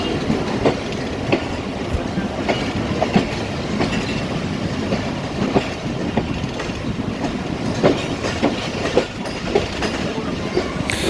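The Jaffar Express of Pakistan Railways pulls out of Wazirabad Junction, a steady rumble of railcars with rhythmic clickety-clack wheel beats and metallic rattles, heard from on board.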